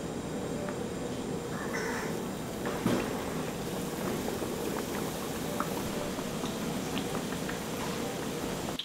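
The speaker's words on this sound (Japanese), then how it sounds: "では170度の油で揚げていきます。" Salmon pieces deep-frying in 170-degree oil give a steady, dense bubbling sizzle throughout, close and continuous with no talk over it.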